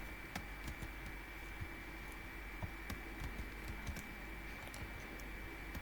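Typing on a computer keyboard, rapid irregular clicks of keys close by over a steady faint electrical hum, no voices.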